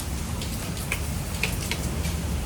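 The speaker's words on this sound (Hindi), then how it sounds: "बाहर तगड़ी बारिश होने लगी है" Heavy rain falls outside during a storm, a dense continuous hiss with occasional sharper drops ticking on a surface, heard alone without talk.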